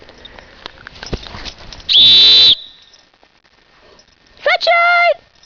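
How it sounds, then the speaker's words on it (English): Two loud, clear human whistles calling a dog outdoors on a winter snowshoe walk, a long steady note followed by a shorter two-part call, with faint background speech and rustling before them. "Now I'm going to whistle for Sunshine."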